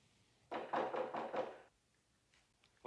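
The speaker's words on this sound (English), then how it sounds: "Oh, listen, there's someone at my front door." Knocking on a front door in a 1970s San Francisco police drama: about five quick, fairly loud raps in a tight burst, then quiet.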